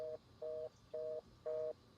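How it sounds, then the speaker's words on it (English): Video-game telephone line tone repeating as a steady series of evenly spaced electronic beeps, each lasting about a quarter second with equal gaps, clear and alone with no voices. "Answer the fucking phone."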